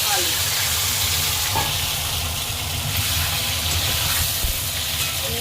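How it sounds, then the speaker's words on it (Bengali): Eggplant and pumpkin fry in oil tempered with panch phoron, bay leaf and dried red chilli, making a loud, dense, continuous sizzle with faint stirring underneath. "ফোড়ন দিয়ে আমি সবজিগুলো ভেজে নিচ্ছি বেগুন কুমড়ো"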